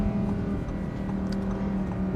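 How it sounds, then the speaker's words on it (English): Naturally aspirated ten-cylinder engine of a rear-wheel-drive Audi R8 V10, droning at a steady, loud, close-up pitch with a continuous humming tone and no talk over it. "That sound of the 10 cylinder is unbelievable."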